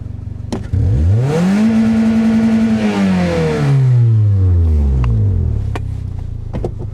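A Toyota Corolla engine running E85 fuel revs up sharply, holds a high whine, then winds back down, with a few clicks before and after.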